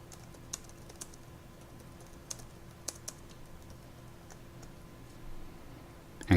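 Light, sparse keystrokes on a computer keyboard as a name and company details are entered into a form, soft and close with a few sharper clicks and a low steady room hum, with no talking.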